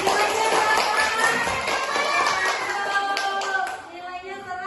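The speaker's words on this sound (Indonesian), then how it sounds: "Tepuk tangan." Classroom applause from students, a steady patter of many hands clapping together for several seconds before fading out at the end.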